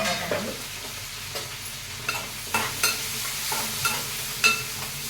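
Onions, tomato and curry leaves fry in a pan with a steady sizzle, while repeated stirring strokes clink and scrape at an uneven rhythm, close and fairly loud.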